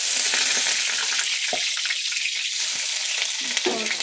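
Onions frying in a pan give a steady, close sizzle with a few soft scrapes of stirring, and no talk.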